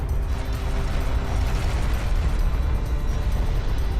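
A hostile craft explodes in the Homeworld: Deserts of Kharak strategy game, a dense, continuous roar of booming blasts and rumble that stays loud the whole time.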